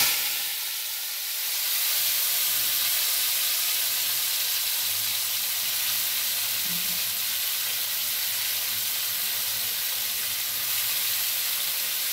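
Cumin seeds sizzle in hot oil in a pan, a steady bright hiss that holds evenly throughout, fairly close with no talking.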